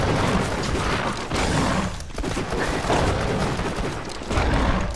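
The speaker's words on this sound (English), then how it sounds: "test this revolver on some Skags over here" Revolver fire in Borderlands 2 against Skags mixes with dense game combat noise, a loud, continuous wash of shots and blasts with brief dips in between.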